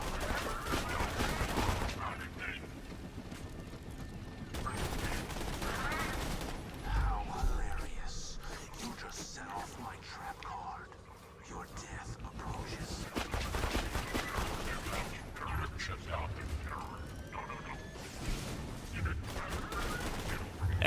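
The Stomper gun in Borderlands 2 fires repeated rapid bursts in a chaotic combat mix, with some loud gameplay sound effects and a voice talking over parts of it.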